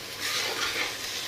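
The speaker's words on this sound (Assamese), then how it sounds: "এতিয়া আলুখিনি দি দিছোঁ, অকণমান আলুখিনি ভাজি ল'ম" Potatoes fry in a pan, giving a soft, continuous sizzle close by that swells slightly midway, without speech.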